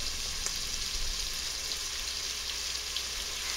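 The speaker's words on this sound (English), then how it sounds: "I'm going to add a little bit more onions because when the onions saute, they kind of like disappear" Onions sauteing with garlic in a Power Pressure Cooker XL pot, a steady close hiss and crackle of frying holding evenly throughout with a few faint clicks of stirring.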